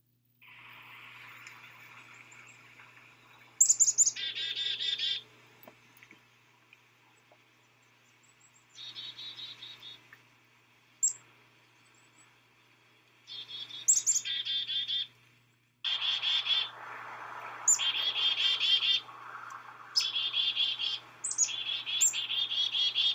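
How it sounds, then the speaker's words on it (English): Black-capped chickadee calls come in several separate bursts of high chirps and buzzy notes, moderately close, with quiet gaps between them and a faint steady low hum underneath. "These are the calls of a chickadee."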